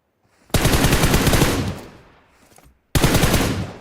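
Gunfire from the mobile battle royale game BGMI (Battlegrounds Mobile India): a loud sustained automatic burst of about two seconds tails off, then after a short pause a second loud burst begins, close and alone without talk.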